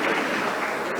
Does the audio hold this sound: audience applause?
yes